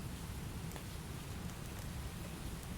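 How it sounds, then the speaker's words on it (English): Steady rain sound playing softly in the background, a faint continuous hiss with scattered drop ticks and no talk. "I have a rain thing in the background"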